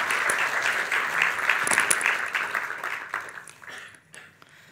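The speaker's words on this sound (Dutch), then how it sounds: "Emese Kroon, mag ik een hartelijk applaus?" Warm audience applause at a debate on drug legalisation, steady dense clapping that tapers off and fades toward the end.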